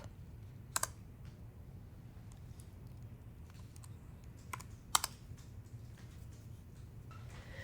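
A computer keyboard is tapped to enter a Linux apt command in a terminal, giving faint, quiet keystrokes spaced out irregularly, with a few sharper clicks standing out over a low background hum.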